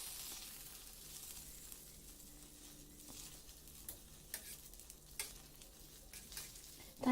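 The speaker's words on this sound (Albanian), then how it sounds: "specat na janë skuqur normalisht" Red peppers sizzle gently in a frying pan, with a soft continuous crackle and a few scraping stirs toward the end, fairly quiet and close.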